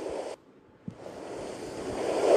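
A cartoon ocean effect carries the steady hiss and wash of surf and moving water in an animated story. It cuts out briefly, gives a soft thud and then swells back, rising louder toward the end.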